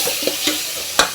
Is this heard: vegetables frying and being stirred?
yes